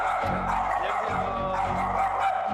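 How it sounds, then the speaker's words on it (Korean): A dog barking fiercely at visitors arriving at a home indoors: rapid, repeated barks in quick bursts, close and insistent, with no pause between them. "외부인이 오자 격렬하게 짖어대는"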